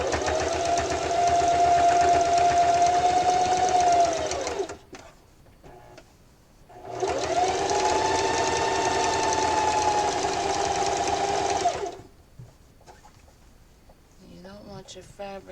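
Sewing machine back-stitching through layered fabric for a drawstring backpack, two loud steady whirring runs of about five seconds each separated by a short pause, with faint handling noise at the end.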